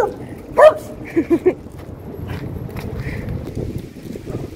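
A dog gives a single bark followed by a quick series of three short yips, then faint background noise with a low murmur.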